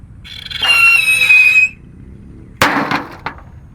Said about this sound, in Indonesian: menyalakan mercon roket pirotor di dalam galon